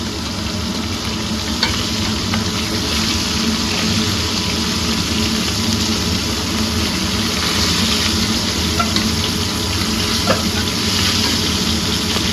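Pieces of fat dipped in gram-flour batter deep-frying in plenty of oil, a loud continuous close-up sizzle and bubbling that never lets up, with no talking.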